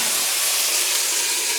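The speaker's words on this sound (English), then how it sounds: "And then I'm going to put a splash of water in" Loud, steady hissing sizzle of a splash of water hitting a hot wok of Brussels sprouts, continuous and close, with no voices.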